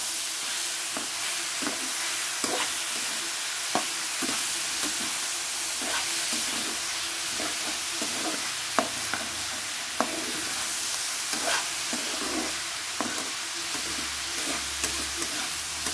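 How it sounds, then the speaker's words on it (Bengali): Tomatoes frying in a pan for chowmein, a continuous hiss of sizzling oil with repeated scraping clicks of a spatula stirring at an irregular rhythm, close and steady throughout. "দেখো টমেটোটা দিয়ে দিচ্ছি, এটা ভালো করে ভেজে নিই।"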